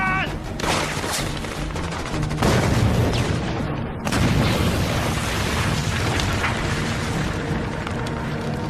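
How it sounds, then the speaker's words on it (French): A grenade explodes in a French action film, amid a heavy, continuous barrage of booming blasts and gunfire that stays loud throughout with a brief dip midway. "Grenade!"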